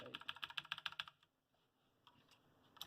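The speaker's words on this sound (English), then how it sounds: "let's demonstrate some typing, how it feels typing with this keyboard" Rapid typing on a backlit computer keyboard: about a dozen crisp, close key clicks in quick rhythm, then a pause and a few scattered taps toward the end, quiet overall.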